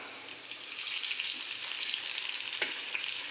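Onions and tomatoes fry in a pan for dal khichdi, giving a loud, steady sizzling hiss that runs unbroken with no voices over it.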